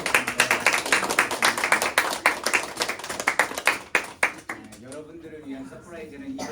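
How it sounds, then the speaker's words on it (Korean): A church congregation at a Sunday service clapping in quick, irregular bursts for several seconds, then the applause fades as a voice speaks. "우리 하나님 앞에 다시 영광의 박수 그리고 모든 분들에게 감사드립니다"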